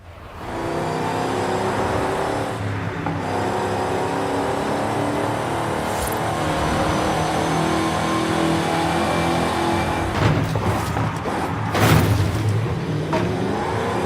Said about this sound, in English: I'd rather listen to the engine though.